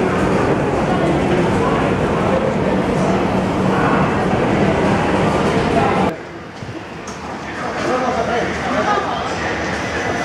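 Beijing metro subway train running, a loud continuous rumbling roar that drops suddenly partway through and then builds again, with murmured chatter mixed in.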